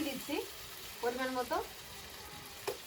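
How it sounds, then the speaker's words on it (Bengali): Spices and turmeric frying for prawn malaikari, a quiet steady sizzle with a few brief stirring scrapes, while a voice speaks in short bursts. "হলুদ তো আমরা ভালোভাবে নেড়ে নেবো কষিয়ে নেবো"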